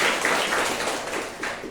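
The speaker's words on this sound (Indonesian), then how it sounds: "tepuk tangan dulu buat Atia" Students in a university class clapping for a classmate, a brief round of many hands with a loosely pulsing rhythm, moderately loud and fairly close, with no voices over it.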